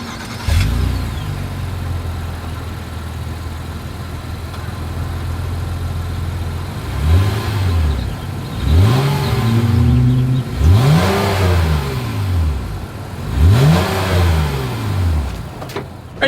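A 2023 Honda Ridgeline with dual exhaust idles, then revs repeatedly, with five or six rising-and-falling throttle blips close by and loud.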